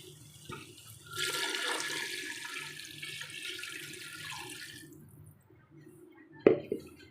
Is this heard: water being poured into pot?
yes